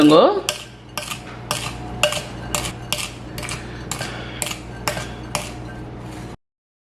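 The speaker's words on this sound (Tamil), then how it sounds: "இப்போ இதை இதில் போடுங்க இப்போ இதை நல்லா மிக்ஸ் பண்ணி" Sugar and salt being stirred together in a bowl, a spoon clinking against the side in a steady rhythm of about a dozen sharp taps, close and clear with no talking.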